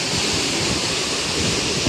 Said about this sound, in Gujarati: ફૂલ સ્પીડમાં પાણી જાય છે મિત્રો, ફૂલ સ્પીડમાં.